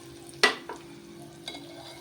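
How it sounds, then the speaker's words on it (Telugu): Ginger garlic paste, onion and spices frying in oil for a small-fish curry, with a sharp stir clink near the start, a softer knock after, and a steady low sizzle throughout. "మనకు అల్లం వెల్లిపాయ పేస్ట్, ఉల్లిగడ్డ మసాలాలన్నీ బాగా నూనెలో వేగినాయి"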